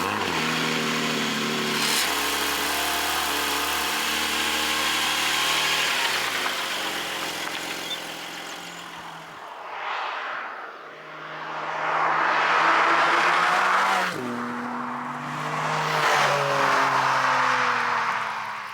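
A Porsche 718 GTS 4.0 flat-six driven on the road, heard from inside as a steady mid-pitched engine drone that swells through rising revs and gear changes, loud and continuous with no talking.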